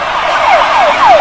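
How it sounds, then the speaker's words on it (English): A fire engine siren wails loudly and close, repeating a quick falling sweep about four times in a steady rhythm, with no talking. "Stand clear! Shouts Mama Elephant when the fire engine arrives."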